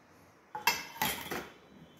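Ingredients being stirred together in a bowl, giving a few quick metallic clinks of a utensil against the bowl in a short, close burst with no talking.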